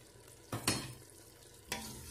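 Faint sizzling in a frying pan for a traditional Kabyle dish, with a couple of brief stirring scrapes breaking a low steady hiss.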